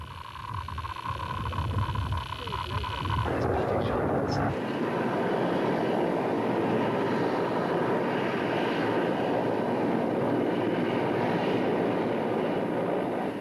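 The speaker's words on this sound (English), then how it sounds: "Here, an Mi-24 gunship flies over a Stinger well within range" A Soviet Mi-24 gunship helicopter passes overhead, a loud, steady roar of engines and rotor wash that swells and holds throughout, with narration spoken over it.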